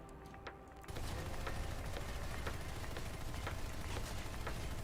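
Dervish aircraft gunfire in the Planetside 2 video game, a dense, continuous stream of rapid shots starting abruptly after a quieter moment and holding steady at moderate loudness.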